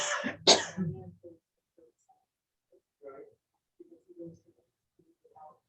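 An elderly woman gives a sharp burst of coughing up close indoors, two harsh hacks followed by quieter throat sounds and murmured speech.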